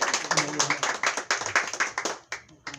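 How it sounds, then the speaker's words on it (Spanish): A group in a Bible class applauds the teacher. Quick, rhythmic hand claps sound close and fairly loud, then thin out near the end, with voices mixed in. "Un fuerte aplauso al maestro."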